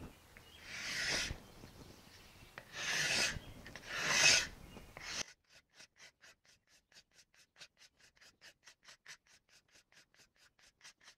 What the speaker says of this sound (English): After I did those scrapes